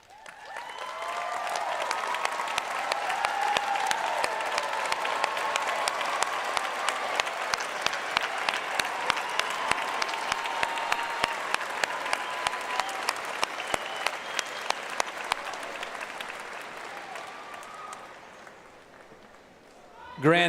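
A large audience applauds steadily at a high school graduation ceremony, a dense wash of clapping that swells and holds for about fifteen seconds before thinning out, with scattered cheers mixed in.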